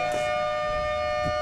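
A loud, steady tonal siren signals a heat at a surfing competition on a powerful reef break in Arica, Chile, holding one sustained wail close and clear for the whole moment with no talk over it.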